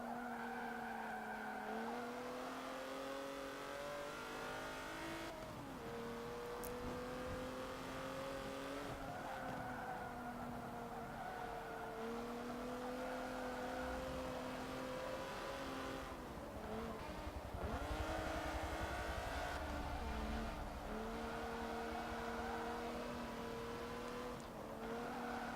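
Race cars in Forza Motorsport 7, including a BMW M5, drone steadily at high revs, with the pitch dipping and climbing through gear changes and corners and occasional tire squeal, sustained and loud throughout.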